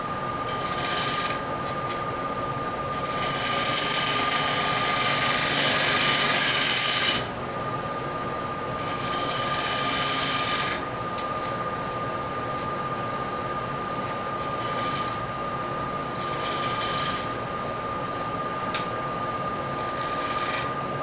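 A wooden disc vase is sanded on a lathe: repeated hissing bursts of abrasive scraping rise and fall over the machine's steady, unbroken motor whine.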